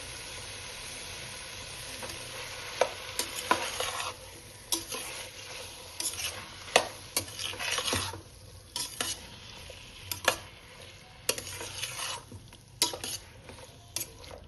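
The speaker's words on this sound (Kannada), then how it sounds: "ಚೆನ್ನಾಗಿ ಮಿಕ್ಸ್ ಮಾಡ್ಕೊಳ್ಳೋಣ್ರಿ." Curd being stirred into a one-pot jackfruit and mushroom biryani, soft scraping spoon strokes and clinks against the pot repeating over a faint sizzle, quiet and close without talk.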